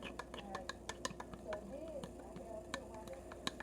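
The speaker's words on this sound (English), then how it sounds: "just kind of mix the peanut butter with the spoon" A spoon stirs peanut butter in a jar, giving a run of quiet, rapid clicks and taps against the container, with some faint background voice.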